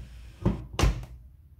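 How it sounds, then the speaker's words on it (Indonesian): Door of a front-loading washing machine swinging shut and latching, two close, sharp thuds about a third of a second apart, the second firmer, in a quiet room. "kita tutup pintu mesin cucinya hingga rapat sampai bunyi terkunci ya"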